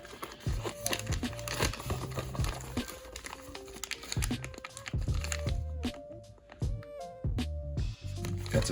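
A small plastic bag holding FPV drone motors crinkles and rustles as it is handled up close, with soft, irregular crackles and crunches, faint and with no talk.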